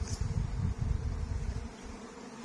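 A steady low buzzing of many honey bees at a hive during an acacia honey flow, soft and continuous, like insects droning around the hive.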